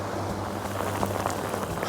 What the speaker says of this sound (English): But now it's actually raining proper at the moment.